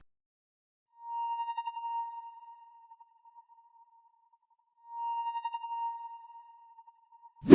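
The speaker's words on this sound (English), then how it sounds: "Then I added this accent called Bubblegum, and it only plays in the middle of every 2 bars, and this is what it sounds like with no effects on." Bubblegum accent sound from an FL Studio guitar-style trap beat with no effects: a clean, pure bell-like tone sounding twice, about four seconds apart, each note ringing and fading, alone and fairly quiet.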